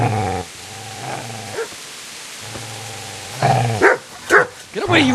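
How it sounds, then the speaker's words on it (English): A dog in Kingdom Come: Deliverance gives low sustained growls between loud barks, close and aggressive, with someone shouting over the later barks. "Get away, you mutt!"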